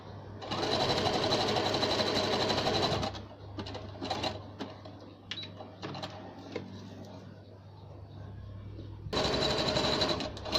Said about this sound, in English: Stitch it across in a couple of angles so it stays there.